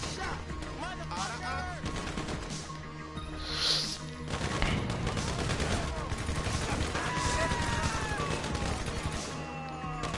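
Dense, continuous gunfire from a GTA video game shootout, rapid overlapping shots and impacts that grow busier after the first few seconds, with faint voices and game sounds mixed underneath.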